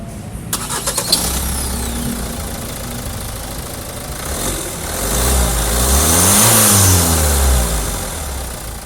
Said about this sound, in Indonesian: sekarang kita pengen dengar dulu suara mesinnya